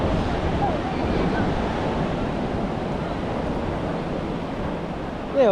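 Sea waves roll in at high tide on Puri beach, a dense, steady surf roar with wind buffeting the microphone, loud and continuous, and a faint voice briefly at the end.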